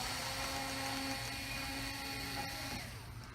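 A small power screwdriver whines steadily as it backs screws out of a Samsung TV during a T-Con board replacement, a continuous faint drill whirr heard up close with no talking.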